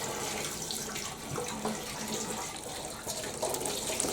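Water from a hose pours into a Zanussi SD 2811W spin dryer, a continuous splashing, hissing flow at close range with small fluctuations throughout.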